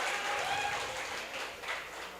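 Applause from the audience at the 2025 Tilhar All India Mushaira, a moderate wash of clapping that swells and fades slightly across the stretch, with no voices over it.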